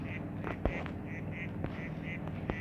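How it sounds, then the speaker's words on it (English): Ducks in a Minecraft zoo enclosure give repeated short nasal quacks in an irregular rhythm, with faint clicks behind them. "over here we have ducks"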